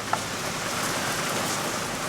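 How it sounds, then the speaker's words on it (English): Steady rain falls outside, a soft even hiss of drops at moderate distance with no talking. "Ooh, that rain."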